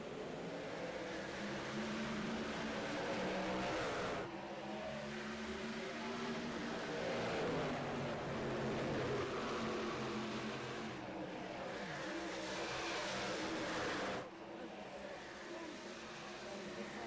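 Race truck engines roar at Dover Motor Speedway in an iRacing truck series video game, a continuous loud drone of several engines with rising and falling pitch and brief dips as the field passes.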